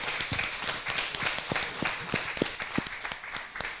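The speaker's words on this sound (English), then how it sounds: "Could you give a huge round of applause" Audience applause for panel speakers at a talk during the National Ploughing Championships, a steady stretch of many people clapping with some sharper individual claps.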